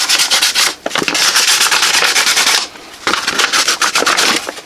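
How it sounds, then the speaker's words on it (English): Sandpaper worked by hand along the edges of a Kydex holster, a close, loud gritty rubbing in repeated strokes with a brief pause partway through. "I will kind of just go over it with some hand sandpaper and just smooth it"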